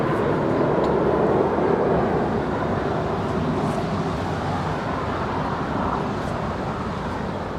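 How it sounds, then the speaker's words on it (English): A Spirit Airlines Airbus A320 departs LAX at night for Atlanta, its engines a loud, steady broadband roar that holds for several seconds and fades only slightly. "And a Spirit Airlines flight 631 departing to Atlanta."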